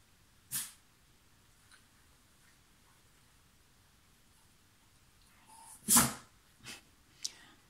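A dog sneezes close by in a quiet room, one sharp burst early and a louder one near the end, followed by a couple of softer snorts and faint breathing.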